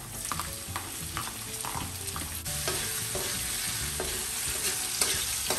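Garlic and onion sautéing in oil, a continuous close sizzle with repeated spatula clinks and scrapes against the pan, no talking.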